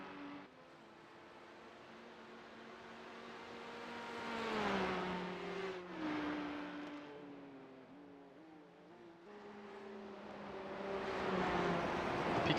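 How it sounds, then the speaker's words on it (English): Porsche Cup race cars at the Nürburgring during a 24-hour race, engines droning and swelling as they approach and pass, with shifting pitch and several overlapping cars, no talk. "The P-cups always sound like they're coming in way hotter than they actually are."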